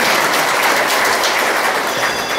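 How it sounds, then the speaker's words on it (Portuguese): Loud, dense clapping from a church congregation at an eighth-anniversary men's rosary gathering, a steady wash of many hands with no pauses throughout. "Palmas para Jesus."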